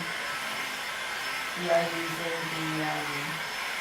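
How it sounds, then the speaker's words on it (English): Heat gun drying paint on a side table, a steady whirring blow of air running throughout while a person talks over it. "The artists be using the heat gun because we want to speed up the drying process"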